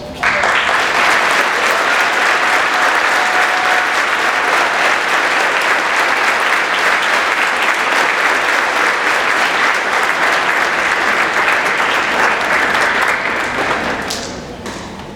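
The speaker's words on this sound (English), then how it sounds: "Please give them a round of applause." Sustained audience applause for parents standing at a school gathering, loud continuous clapping from a crowd lasting over ten seconds before tapering off.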